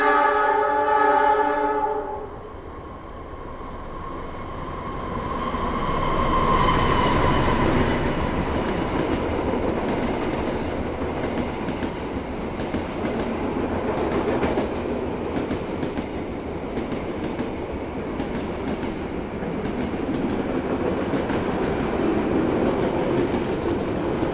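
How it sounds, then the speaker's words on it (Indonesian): A long Jayakarta passenger train rumbles past steadily for over twenty seconds, wheels clattering on the rails, after a brief horn-like tone at the start. "Yang baru saja lewat itu kereta Jayakarta rangkaian panjang."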